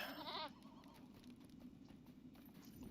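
A goat in the Lord of the Rings Online game gives a short wavering bleat at the start, followed by quiet ambient background.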